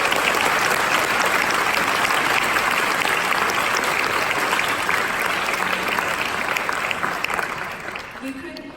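Sustained applause from a large crowd at a university graduation, steady and loud for several seconds before tapering off slightly at the end.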